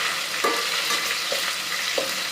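Spices sizzle steadily in hot oil in a pan for jeera rice, a constant close frying hiss broken by a few brief stirring scrapes.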